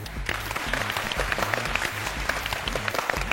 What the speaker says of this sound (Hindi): ताली होनी चाहिए।